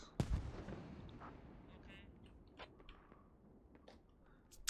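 A single heavy mortar round booms from a distance in the tactical shooter Squad, followed by a faint rumbling tail and a few scattered soft ticks in a quiet battlefield ambience.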